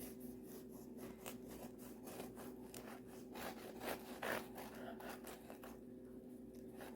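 A knife saws through a loaf of homemade cranberry walnut bread from a bread machine, making faint, rhythmic rasping strokes that repeat steadily.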